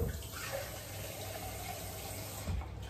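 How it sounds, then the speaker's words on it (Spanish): Tap water pours steadily into a pot of potatoes in a home kitchen, a soft continuous rushing fill that swells slightly near the end, heard alone without talk. "ahora lo que voy a hacer es cubrirlo de agua"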